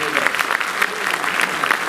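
Audience applauding at a railway workers' union meeting, a dense crackle of many hands clapping together at a steady moderate level.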